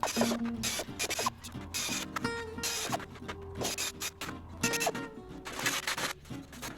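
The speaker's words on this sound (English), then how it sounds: "This is a pneumatic nibbler, straight into the airline. Does get a bit stuck sometimes. Gives a nice clean cut though." A pneumatic nibbler, fed straight from an airline, chews through the metal body panel of a Peugeot J9 van. It gives a loud, continuous rasping chatter with brief stutters and pauses as it snags, close to the tool.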